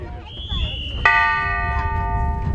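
During a Dubai vs Somerton polo match, a single bright bell strike ends a chukker and rings on with a long, sustained shimmer, while commentary voices continue around it.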